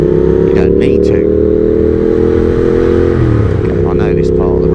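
A Triumph Speed Twin 1200 motorcycle engine drones loudly and steadily while riding, holding a low, even rumble with a slight shift in pitch partway through, under wind noise and a rider's voice.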